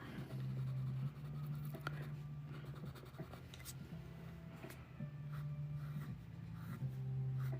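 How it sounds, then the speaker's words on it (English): White colored pencil scratching steadily across paper during a coloring session, a soft continuous scraping with brief pauses between strokes, close and quiet. "This is a white colored pencil that I'm using."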